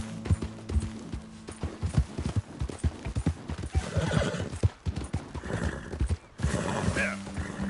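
A horse in a video game gallops with quick, rhythmic hoofbeats and neighs loudly several times, with faint voices now and then.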